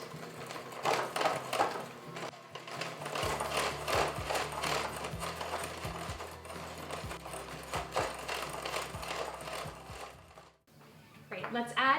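An electric hand mixer whirs steadily through a batter of egg yolks, oil and milk for a Japanese roll cake, a continuous buzzing drone broken by small knocks against the bowl before it cuts off near the end.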